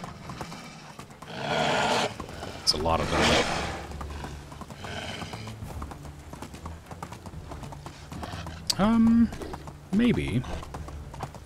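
Donkey hooves clip-clopping at a run in a video game, a steady close rhythm throughout, with a braying call near the end and someone talking over it.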